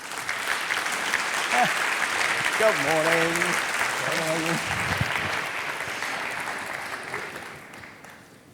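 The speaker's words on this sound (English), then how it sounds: "give a very warming round of applause to the president of GroupM" Audience applause at the Festival of Media welcomes the president of GroupM onstage, a sustained broad clatter of many hands that swells and then tapers off, with a voice greeting the crowd partway through.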